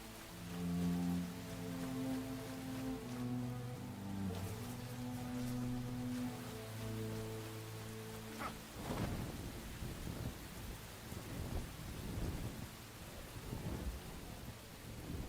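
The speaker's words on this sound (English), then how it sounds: "Still friggin' raining down here." Steady rain pours down in the survival game Enshrouded while a heavy roll of thunder rumbles loudly through the first half, then fades into continuous, dense rainfall patter.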